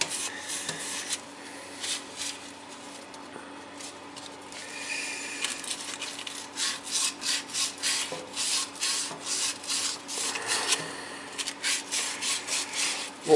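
A corroded Delta kitchen faucet part is sanded by hand, giving steady rhythmic rubbing strokes that speed into quick, even back-and-forth passes close by, with no talking.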